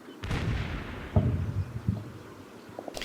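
Tanks in Combat Mission: Battle for Normandy pounding a hedgerow, heavy booming impacts with a few distinct blasts spaced over a few seconds, loud and reverberant against a rumbling battlefield background.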